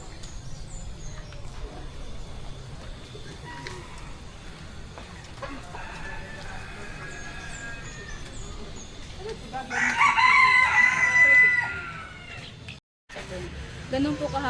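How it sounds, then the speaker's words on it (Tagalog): Chickens and roosters call near a pheasant enclosure, with one loud, drawn-out crow standing out above steady barnyard sounds while a person speaks through much of it. "Ganun po kahaba yung titilaok po nila."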